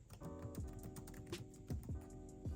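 Keys clatter on a computer keyboard in a steady, slightly uneven run of soft clicks, close and quiet, with no voices.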